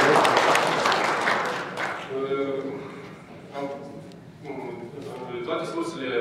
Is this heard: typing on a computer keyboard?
no